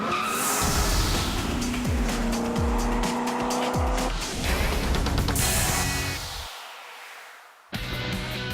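A 2014 Chevrolet Corvette Stingray is driven hard, its engine roaring loud and close while the tires squeal and skid through repeated rising and falling pitch sweeps, broken by a brief dip before the din resumes.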